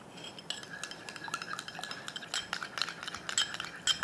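A spoon stirs a homemade beetroot face pack mixture in a small bowl, giving quick, light scraping clinks that repeat irregularly at close range with no talking.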